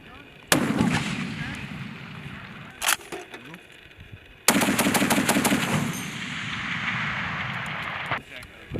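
M2A1 heavy machine gun firing on a Marine range, loud sustained bursts of rapid automatic fire with pauses between volleys and sharp reports echoing outdoors; people talk faintly in the background.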